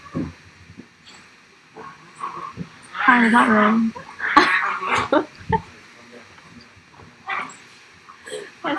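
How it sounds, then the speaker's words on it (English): Dogs growl and bark in scuffling bursts in the background while a person speaks over the commotion. "can you hear my dogs, like,"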